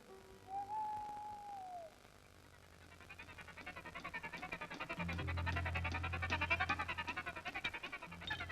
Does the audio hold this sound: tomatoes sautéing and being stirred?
no